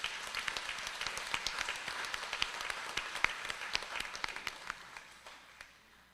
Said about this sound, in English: that we all give them a round of applause, Sister Angela Duokus,